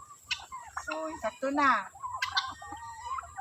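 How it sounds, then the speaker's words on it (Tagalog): Pet chickens and turkeys on a farm, just fed, cluck and gobble close by in a series of bursts, with a short spoken phrase mixed among the calls. "Napakain ko na ang aking mga alagang manok at saka pabo."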